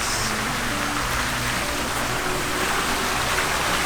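Steady, continuous rush of flowing water in a villa spa area in Tulum, close and fairly loud, with a dense hiss and no breaks throughout.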